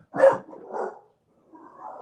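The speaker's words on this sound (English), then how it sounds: "I promise y'all, he's barking at nothing." A dog barks twice in quick succession, close and fairly loud, followed after a short pause by a fainter, drawn-out yelp or whine.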